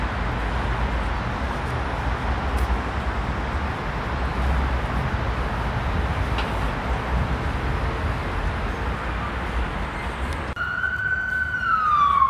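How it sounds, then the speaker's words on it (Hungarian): Siren of an emergency vehicle wailing outside a university surgical clinic, steady over loud traffic rumble, with the rising and falling tone rising clearly near the end as it draws close. "Ez a mentő még nem értem jön."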